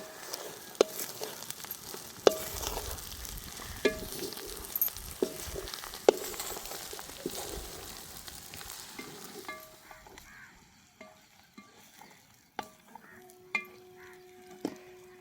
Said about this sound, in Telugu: పొడులన్నీ పిట్టుకు పట్టేలాగా కలుపుతున్నా